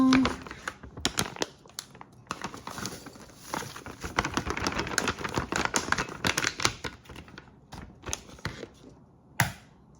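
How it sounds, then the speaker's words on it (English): A bag of Pampered Chef brownie mix is opened up close, with crisp crinkling, rustling and tearing sounds in irregular bursts, including a sharp pop near the end. "Got to open the bag."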